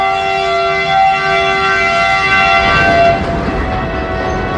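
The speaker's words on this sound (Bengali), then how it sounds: "দেখুন মালগাড়ি ছাড়ি দিছে" A long, steady horn blares loudly as an empty goods train pulls away, with a low rumble of moving wagons building beneath it.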